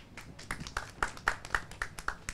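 Scattered clapping from a small audience at an oil and gas industry event in Indonesia, a few distinct claps spaced out over a couple of seconds, fairly quiet and slightly distant.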